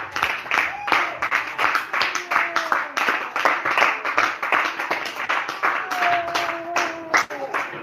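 A church congregation claps in a steady, brisk rhythm, loud and close, with voices faintly mixed in beneath the hands throughout.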